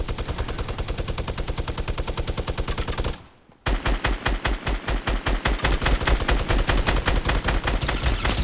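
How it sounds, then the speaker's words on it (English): Assault rifle fire in the video game Fortnite comes in loud, rapid automatic bursts, with a brief pause partway before the shooting resumes even denser and heavier, and no talking over it. "Take this guy with an assault rifle."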